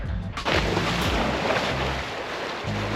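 A sailboat under way in the Maldives, with a steady, close rush of wind and water and a low rumble running beneath it for the whole stretch.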